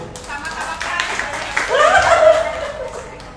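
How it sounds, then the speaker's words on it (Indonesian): Audience applause at a literary association's inauguration gathering in Aceh, rising midway into a loud burst of clapping mixed with laughter and voices. "Tepuk tangan."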